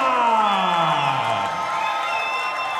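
A boxing event crowd roars and cheers in a steady, loud, sustained wash, with some tonal voices sliding through the noise.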